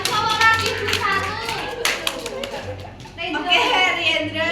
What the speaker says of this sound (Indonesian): tepuk tangan untuk Rama